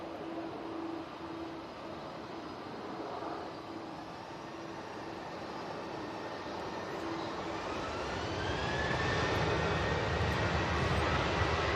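An airplane lands in gusty wind at Manchester Airport, its engine roar steady and fairly distant, swelling louder toward the end over continuous wind rumble.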